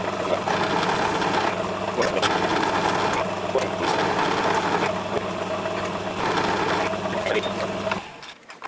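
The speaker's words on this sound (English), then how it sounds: "let's turn this down to 3 millimeters and then gradually feed it out" A small metal lathe runs steadily, turning a workpiece down to 3 millimetres for a miniature oil can, with a continuous mechanical whir and hum that holds level before cutting off near the end.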